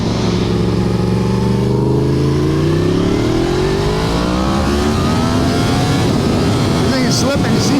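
A Yamaha FZ10 motorcycle engine revs loud and close while riding on an overcast day, pitch sweeping up and down continuously with constant wind rush throughout.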